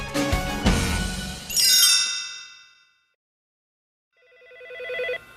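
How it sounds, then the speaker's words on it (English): In a Phineas and Ferb cartoon, a telephone bell rings twice, loud and close, the first ring following some clattering and fading into silence before the second ring rises again. "A few minutes later, the phone rang."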